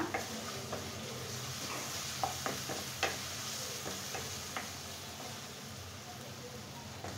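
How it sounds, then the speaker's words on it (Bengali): Potatoes frying in a pan for a Bengali peel-and-potato dish, a steady low sizzle with scattered faint ticks and light stirring knocks throughout. "আমি আলুটা এখন 3-4 মিনিট ফ্রাই করে নেব।"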